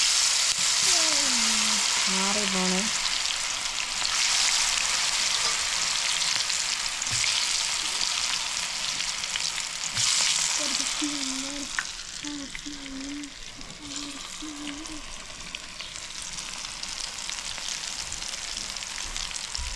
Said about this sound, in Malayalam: വെളിച്ചെണ്ണ നന്നായിട്ട് തിളച്ചിട്ടുണ്ട് ഇതിലേക്ക് നമ്മൾ നമ്മുടെ കോളിഫ്ലവർ അങ്ങ് ഇട്ട് കൊടുക്കുകയാണ്